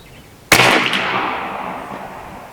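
A Seneca Dragon Claw .50 caliber PCP air rifle fires once with a sharp loud crack, followed by a long fading outdoor echo and no talking.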